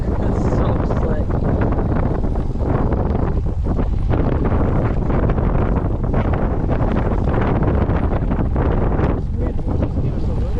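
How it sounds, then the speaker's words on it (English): Steady, loud wind buffeting the microphone throughout a group bike ride on a Memorial Day outing in Sycamore, Illinois, a constant roar with riders' voices faintly mixed in. "This wind will just give us a little bit of a break."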